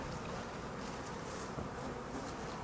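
Steady, dense buzzing of honey bees at a hive, like many bees humming together close by, continuous and even with a low rumble underneath and no voices.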